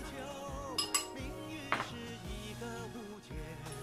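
A spoon clinks and scrapes against a bowl while sesame paste is stirred loose with water and a little chicken bouillon, several bright clinks over a quiet background of tonal music.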